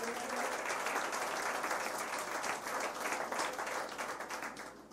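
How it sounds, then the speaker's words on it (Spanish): A church congregation bursts into sustained applause at a memorial service for the death of Jesus, many hands clapping steadily and densely for several seconds in a reverberant hall. "Den un aplauso al Señor."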